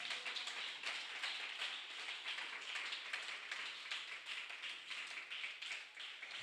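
A church congregation claps together in a continuous, brisk rhythmic patter, heard from a distance at moderate loudness, with many hands blending into a dense, even wash of claps throughout.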